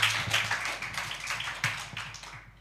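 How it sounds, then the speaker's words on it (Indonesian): A church congregation applauds during a worship service. Scattered individual claps form an uneven, moderately close patter that thins out and fades toward the end. "Berikan tepuk tangan yang paling luar biasa."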